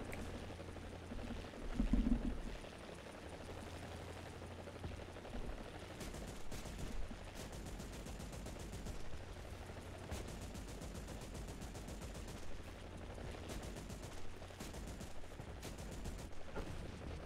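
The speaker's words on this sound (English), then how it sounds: "Somebody's trying to shoot at me" Scattered gunfire aimed at the player in a video game, with faint intermittent shots and short bursts in the background, a brief louder impact near the start and no talk.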